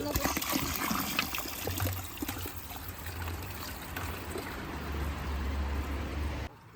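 Water leaks and trickles steadily from a pipe outdoors, a continuous close wash of running liquid with a low rumble underneath, and a voice talks faintly over it.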